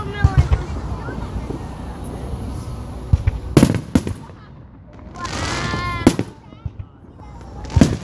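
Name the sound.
fireworks exploding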